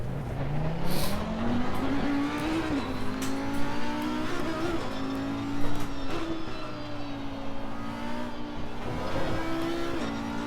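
A race car laps a circuit in Assetto Corsa Competizione, its engine note rising and dropping through gear changes and braking, loud and continuous from the cockpit, with occasional tire noise.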